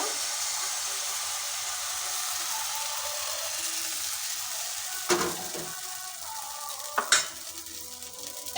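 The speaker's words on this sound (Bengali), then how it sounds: "দিয়ে দিচ্ছি কিছুটা পরিমাণ ব্যাটার ব্যাটারটা ঘুরিয়ে দেব" Batter for orange patishapta pitha cooks in a lightly oiled hot pan, giving a soft, steady sizzling hiss, with two short utensil scrapes or clinks partway through.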